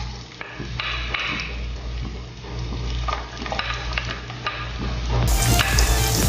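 Garlic frying in oil in a pan as the start of squid adobo, giving a steady close sizzle with light stirring taps and scrapes, growing a little louder toward the end.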